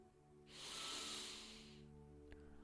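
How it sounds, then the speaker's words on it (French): A single deep inhalation during a guided relaxation exercise: a long, soft, airy breath drawn in for about a second and a half, close and quiet with no talk over it. "Puis inspirez."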